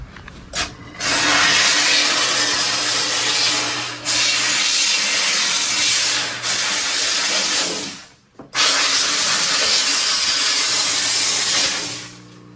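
A loud, steady hiss of steam from a Dupray Tosca steam cleaner sprays in three long bursts, separated by short breaks, close up, while cleaning a bathroom.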